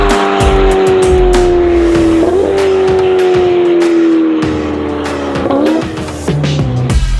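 A Ferrari F8 fitted with a Novitec exhaust, tuned toward roughly 1000 hp, sounds loud and close with a sustained engine note that climbs and dips through shift-like steps, with no voices.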